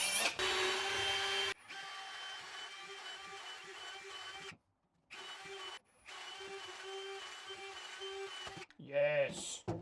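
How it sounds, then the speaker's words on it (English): A power drill bores holes inside a motorsailer boat's hull for electrical wiring, a loud steady whine running in several bursts with short pauses, close up, with a voice heard near the end. "things are taking time just to drill these holes"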